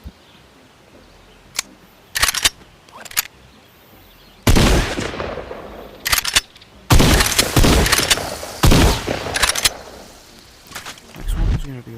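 Shotgun blasts in the VR game Bonelab, several loud, sharp reports spread unevenly over twelve seconds, some in quick pairs, each one trailed by a mechanical clack and a short ringing decay.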